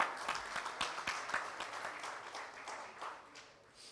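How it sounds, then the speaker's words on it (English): Audience applause at the inaugural session of the LAFCAN 2023 conference: a dense, lively round of many hands clapping nearby that gradually thins and fades toward the end. "A big round of applause, everyone."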